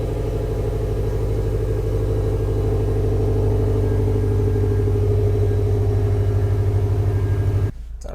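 A 2013 Subaru WRX engine idles after five weeks unused, a steady close low rumble with an even pulsing throb that runs unbroken for several seconds before cutting off abruptly.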